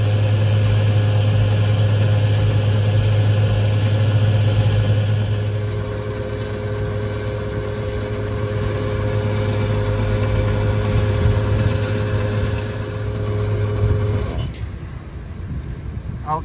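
A vehicle engine idles close by with a steady low hum and a throbbing rumble that runs unchanged for about fourteen seconds, then cuts off.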